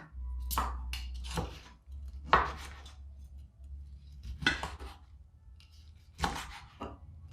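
A knife slices through crispy, freshly baked squid tentacles on a board, five sharp crunchy cuts spaced a second or so apart, close and otherwise quiet.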